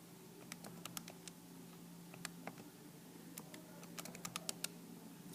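Quiet, irregular clicking of keys being typed on a keyboard, in short bursts with brief pauses.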